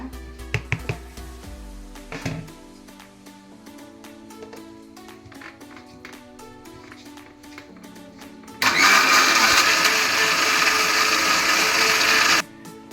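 A kitchen mixer grinder blends a masala paste with coriander powder: light clicks and taps come first, then a loud, harsh whirring grind for about four seconds that stops abruptly.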